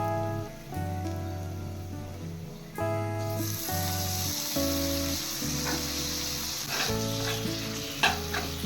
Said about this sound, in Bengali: এবার মশলার সাথে মিশিয়ে টমেটো নরম করে নেব